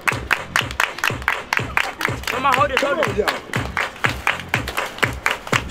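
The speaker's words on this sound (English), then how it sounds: "Everybody clap your hands." A crowd at a Fourth of July event claps together in a steady rhythmic beat along with music, while a voice calls out over the clapping.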